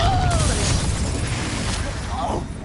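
A Confringo blasting spell fired in the Hogwarts Legacy video game, a loud booming burst with a fiery whoosh, set among other spell effects and game noise.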